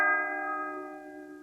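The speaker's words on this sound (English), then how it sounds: "the iron boy lifted his hammer and struck the bell again." One bright metallic bell struck by an iron hammer rings out with a clear ringing tone that slowly decays, heard alone.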